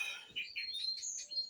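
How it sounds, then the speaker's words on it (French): Birds sing outdoors beside a vegetable garden with a wind chime nearby, bright quick chirps and trills, faint and close, with soft low knocks underneath. "Là je vous laisse déguster le chant des oiseaux et le carillon qui est devant moi à gauche."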